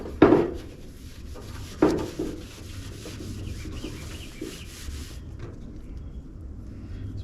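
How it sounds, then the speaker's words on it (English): Old paint is sanded off a car that has sat outdoors for years, heard as soft, close rubbing and scraping strokes with a couple of sharper knocks early on. "Let's get the bulky off and see if it sands off."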